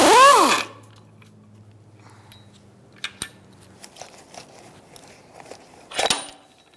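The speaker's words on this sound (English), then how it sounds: "Using a 22mm socket, you're going to remove the center stud nut on your strut." Metal clicks and taps from a 22mm socket loosening the center stud nut on a front strut of a 2000-2007 Ford Taurus, a scattered series of small close knocks after a brief squeal at the start.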